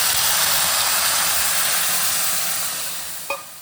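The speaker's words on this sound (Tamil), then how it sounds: "இதோ ஜலம் விடுறேன்." Water splashed into a hot pan of potato masala with onions sets off a loud, steady sizzling hiss that fills the space close by, fading slightly toward the end with a brief clink.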